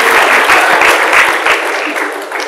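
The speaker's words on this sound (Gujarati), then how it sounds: "આમાં ક્યાં તાળી વગાડવાની આવી?" An audience breaks into steady, dense applause, loud and close, lasting the whole short stretch before tapering slightly at the end.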